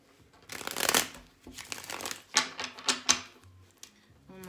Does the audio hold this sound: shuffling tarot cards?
yes